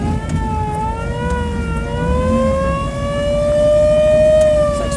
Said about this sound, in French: fous-moi un coup de sirène là.